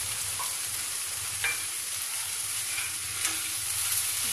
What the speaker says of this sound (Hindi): इसको हल्का सा भून जाएगा